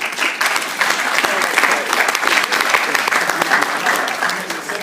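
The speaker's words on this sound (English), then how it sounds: "Give him a round of applause." Attendees at a York entrepreneurs event give a loud, continuous round of applause, with many overlapping hand claps filling the room from start to finish.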